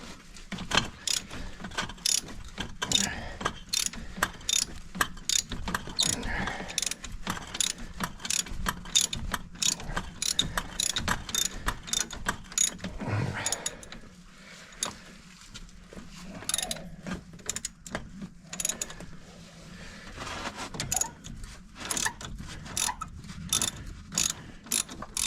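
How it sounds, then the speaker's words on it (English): Strut bolt on a 2012-2015 Hyundai Elantra being worked out with a ratchet, long runs of rapid clicking pawl strokes with short pauses and occasional metallic clunks, fairly close. "but the bolt now is coming out."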